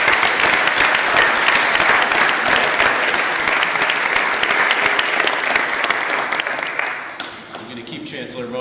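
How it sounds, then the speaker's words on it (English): Sustained applause from a meeting audience of university regents for a chancellor, dense and steady at close range, then thinning and tapering away toward the end. "let's give Chancellor Mone another round of applause"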